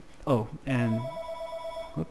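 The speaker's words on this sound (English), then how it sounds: "that's the phone." A telephone rings with steady tonal bursts, sounding during a computer tutorial on the MCedit Minecraft map editor, partly under a man's spoken remarks.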